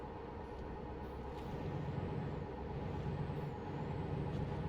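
A heavy truck engine in a video game rumbles low and steady, with a brief hiss of air brakes, continuous and fairly close throughout.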